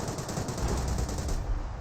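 Rattling machine-gun fire from Grenadiers in Company of Heroes, a continuous burst of rapid shots, moderately loud and dense amid battlefield noise.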